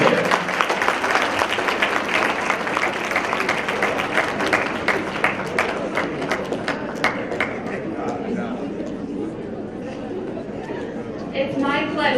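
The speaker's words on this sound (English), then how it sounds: "Give yourself a round of applause," An audience at a 2018 student graduation ceremony gives a round of applause, dense loud clapping with crowd chatter that continues steadily for about twelve seconds before thinning toward the end.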